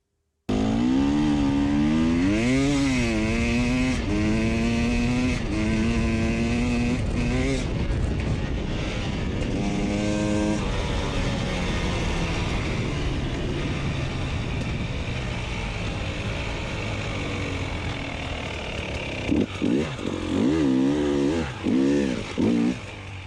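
A KTM 300 TPi two-stroke motorcycle engine idles at around 1500 RPM after an air screw adjustment, a loud, steady, close buzzing drone that runs throughout, with someone talking over it.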